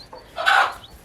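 A hen with baby chicks on a small farm, one short close clucking call rising and fading in the middle, with faint chick peeps around it.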